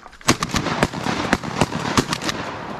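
A rapid volley of loud shotgun blasts at ducks on a beaver pond, a dozen or so sharp bangs firing in quick, uneven succession, echoing outdoors.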